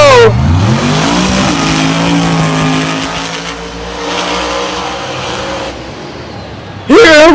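Monster Jam monster trucks race in the final round of the World Finals in Orlando, their engines roaring loud and continuous with rising and falling revs, ending in a sharp burst.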